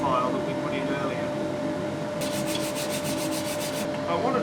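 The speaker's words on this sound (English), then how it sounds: "I want to do a lot of work on the smoothing and sanding of this area of the neck." Sanding on a wooden guitar neck being set into a body, a soft rhythmic scraping of rapid back-and-forth strokes in a short burst, over a steady background hum.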